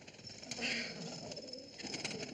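Pigeons in a pigeon house in Shangri-La give soft, low coos over a hissy background from an old 1937 film soundtrack.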